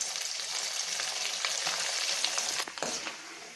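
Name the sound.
coconut pieces frying in oil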